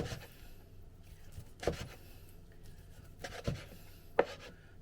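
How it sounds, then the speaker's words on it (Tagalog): A knife slicing char siu pork for ramen on a cutting board, with three distinct, quiet cuts spaced about a second apart against a faint room background. "Ito na yung ating pork na ilalagay Tinili-slice na natin mga kaberks Yan. Hiwain natin lahat yan."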